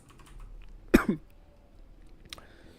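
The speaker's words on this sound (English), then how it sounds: "sorry if I'm coughing so much in your ears" A single short cough burst close to the mic, followed by a smaller second one, then quiet room tone with a faint click later.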